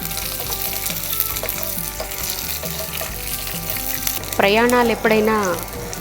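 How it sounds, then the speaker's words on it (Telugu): Mustard seeds, dried red chillies and garlic fry in oil with a steady, close sizzle and crackle throughout, and a voice speaks briefly near the end. "ఈ పోపు అంతా వేగిపోయింది, దీన్ని ప్లేట్లోకి తీసేసుకుంటున్నాను."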